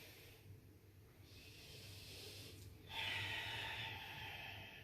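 Slow, deep breaths during a held yoga pose, airy hissing inhales and exhales close by, quiet at first and growing stronger for the last couple of seconds, with no talk.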